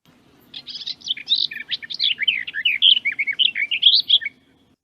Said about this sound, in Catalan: I ara el tallarol gros.